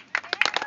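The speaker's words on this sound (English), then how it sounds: "So parents, let's give all these kids a big round of applause." Parents clap for children's teams at a youth sports awards event, a short burst of scattered, uneven hand claps that builds quickly and stays moderately loud.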